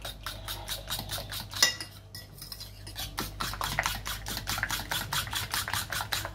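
Apple cake batter being stirred in a bowl for an economical apple cake, a steady rhythmic series of utensil scrapes and clinks against the bowl, close and alone.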